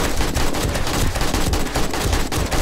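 AK rifle fire in the zombie survival game 7 Days to Die with the Darkness Falls mod. Rapid, continuous automatic bursts sound loud and close, with a dense stream of shots and no pauses or voices.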